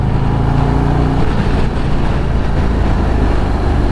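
A 2024 Harley-Davidson Road Glide is ridden at steady speed, its engine droning loud and continuous beneath heavy wind rush, with the low rumble easing slightly partway through.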